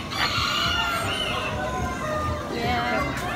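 Roosters and hens at a fair crow and cluck in several bursts over a steady murmur of crowd chatter, with people talking nearby.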